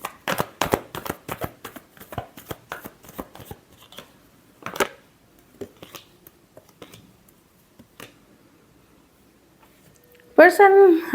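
Tarot cards are shuffled during a love reading, giving a quick burst of close riffling snaps that slows into scattered taps, then a voice speaks at the end.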